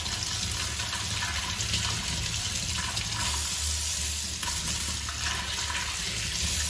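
Tap water runs steadily into a sink while carrots and their leaves are washed, a close, even rushing splash with faint shifting and rubbing as the vegetables are turned under the stream.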